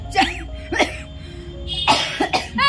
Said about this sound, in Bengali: বাড়ির সামনে ঢুকে আমার কাশি হচ্ছে